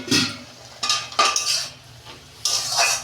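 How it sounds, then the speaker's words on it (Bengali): Metal lid lifted off a cooking pot on the stove, a few sharp clanks and scrapes of metal on metal close by, short and separated, with no voices. "দেখুন বন্ধুরা, ঢাকনা খুলছি।"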